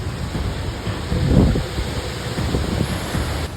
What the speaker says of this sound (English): it's so windy and pouring rain